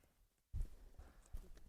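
Small horses walk past on a road, a few hooves clip-clopping close by in an irregular rhythm, with no voices.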